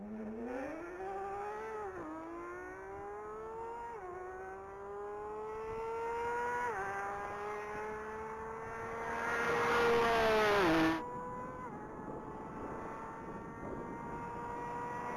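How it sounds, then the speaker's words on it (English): A 2016 Porsche 911 GT3 RS revs hard through several gears on a top speed run, its rising engine note dipping at each shift and growing louder before cutting off sharply near the end, heard from a fixed point. "Alex Miller's on deck in a 2016 Porsche 911 GT3 RS."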